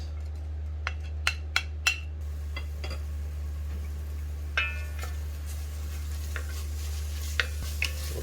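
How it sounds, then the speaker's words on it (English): Ginger, garlic and onions sauté in a pan over a constant low hum, while scattered clear clicks and clinks of a utensil on the pan come through close by. "Saute our ginger, garlic,"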